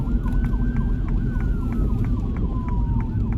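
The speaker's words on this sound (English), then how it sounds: "Yeah, you guys can hear the siren" A fire truck's wailing siren rises and falls over a rumbling traffic background, loud and fairly close, with a rapid yelping pattern layered on top.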